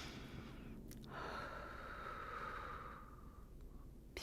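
A slow breathing exercise: one long audible inhalation or exhalation of air, soft and close, with a faint steady tone lingering underneath before the breath fades out.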